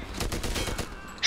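Gunfire in the World War II shooter Medal of Honor: Airborne, a rapid run of close, loud shots in steady rhythm lasting just over a second, with a sharper burst at the very end.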